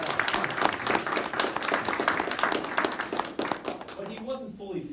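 Audience applause at a Rochester Chamber and SUNY Empire partnership event, a sustained roomful of clapping that fades out near the end as a voice begins speaking.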